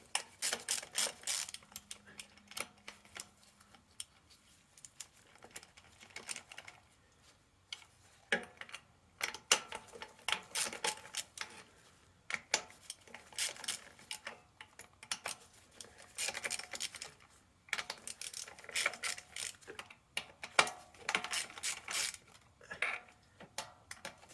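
Ratchet wrench clicking away at nuts on a 1994 Jaguar XJS V12 facelift, repeated bursts of rapid close pawl ticks separated by short pauses, with scattered metallic handling clinks.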